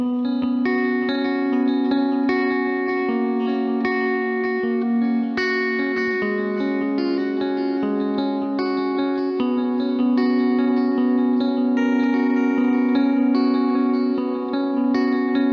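A heavily compressed electric guitar in a worship setting, run through effects with echo, chorus and reverb, playing a steady, even-level stream of ringing notes with a bell-like, electric-piano character and no pauses.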